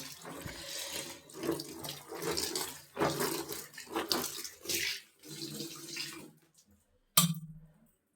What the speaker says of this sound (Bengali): পোটটা ভিজিয়ে দিই